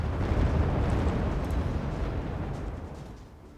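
Mortar explosions in the Wargame Red Dragon strategy game: a dense, rumbling low-end roar of blasts that stays loud and continuous before gradually fading out over a few seconds, with no talk.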